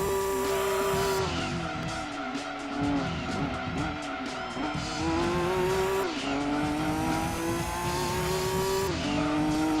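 A race car in the Gran Turismo 2 video game holds a loud, sustained engine note with repeated gear shifts, while tires squeal and skid through the corners of a final lap. Nobody speaks.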